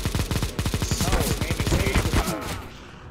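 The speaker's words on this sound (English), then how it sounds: "shooting me through the smoke" Rapid gunfire in the video game CS:GO rings out as a dense burst of close, loud shots in quick succession, tapering off near the end.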